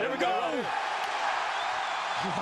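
A sold-out crowd fills the Toyota Center arena at an MMA fight with a loud, sustained roar, dense broadband noise that sits steady throughout while a commentator's voice cuts in near the start.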